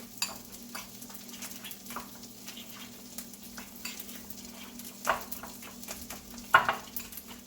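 A fork mixes and mashes tuna with avocado in a bowl, making soft, irregular scraping and clinking taps, quiet and close, with a couple of sharper knocks near the end.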